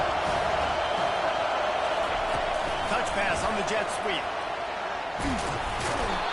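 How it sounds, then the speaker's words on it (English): Stadium crowd roaring steadily at a Kentucky college football game, a dense continuous wall of noise with scattered shouts, sustained and loud throughout, with a broadcast announcer talking over it. "It is getting loud as this crowd tries to help its defense"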